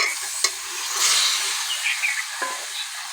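Potatoes and soybean chunks being stir-fried in masala, a hissy sizzle with scattered spoon scrapes and small knocks against the pan, close and fairly loud.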